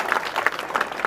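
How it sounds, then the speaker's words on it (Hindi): Brief burst of clapping from a village gathering in Budeen, Mahendergarh, with uneven individual claps standing out near the mic over a thin crowd patter, lasting only about a second. "भाई जोरदार तालियां बजाए राजेंद्र जी के लिए।"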